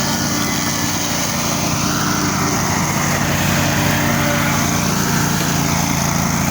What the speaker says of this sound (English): So we got the mower doing its job.